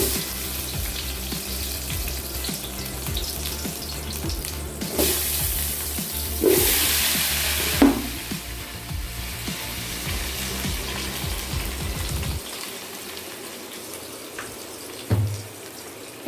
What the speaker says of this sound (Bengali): তেল গরম হয়ে গেছে, এবার আমগুলো তেলের মধ্যে দিয়ে দেবো।